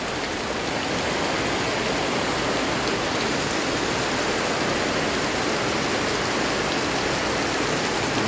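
Heavy rain pours in a steady, dense hiss that stays constant and loud throughout, with no voices or other distinct sounds.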